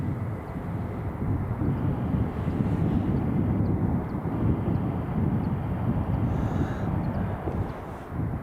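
An EasyJet airliner landing at Edinburgh Airport gives a low, rumbling engine roar with wind buffeting on the microphone, steady and moderately distant throughout.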